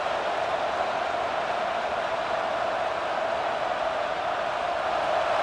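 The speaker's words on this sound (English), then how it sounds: "This crowd bringing the energy and noise early." Stadium crowd noise in the video game EA Sports College Football 26: a steady, even roar from a large crowd, loud and unbroken, with no distinct voices standing out.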